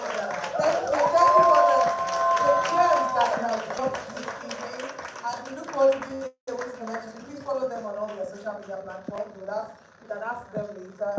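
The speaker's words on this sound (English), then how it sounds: "So can we please put our hands together for our wonderful panelists? You can make the applause louder." An audience at an International Women's Day panel event claps for the panelists, a fairly dense round of applause with cheering that briefly cuts off and resumes more scattered, mixed with speech.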